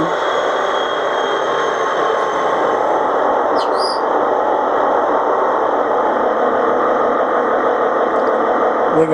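Model railway HST diesel engine sound decoder settling toward idle, a steady electronic engine drone with a brief high chirp partway through, loud and continuous.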